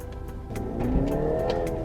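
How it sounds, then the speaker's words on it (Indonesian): A 2021 Mini Countryman, front-wheel drive, accelerates hard under kickdown, its engine note climbing steadily as the front wheels briefly spin, close and loud with no talk. "front wheel drive nya spinning dikit ya, kita pakai apa, injek kickdown ya"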